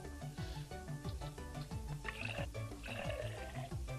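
A baby bottle fills with water in Mother Simulator, making a quiet, steady stream of splashing and gurgling for several seconds. Small bubbling pulses repeat as the level rises.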